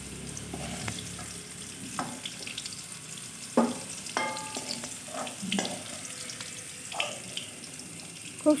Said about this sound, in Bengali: খুব সুন্দর করে আলুটা ভেজে নিলাম লাল লাল করে